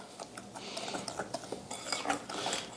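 A utensil clinks and scrapes against a bowl while butter tart filling is stirred, making quick, irregular taps and scrapes heard close up at a moderate volume.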